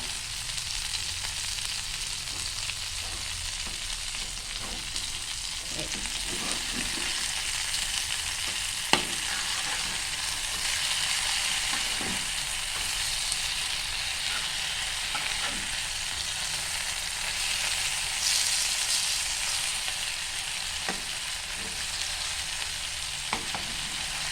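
Chicken fries in a covered pan with little oil, a dense, even sizzle running throughout with a few faint clinks and knocks, close and steady, no voices.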